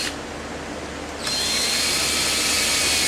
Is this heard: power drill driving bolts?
yes